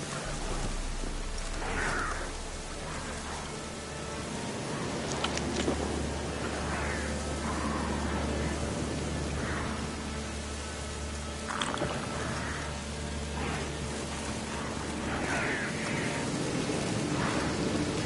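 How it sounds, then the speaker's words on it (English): Steady rain pours over a low rumbling thunder bed in a PS4 game, forming a continuous wash of storm ambience with faint distant tones drifting through; no speech is heard. "Looks like rain."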